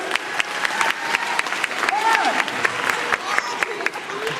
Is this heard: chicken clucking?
no